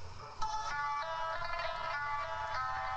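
A phone ringtone plays a bright, repeating electronic melody at steady volume, close and alone, in a scene from an Egyptian comedy-action film.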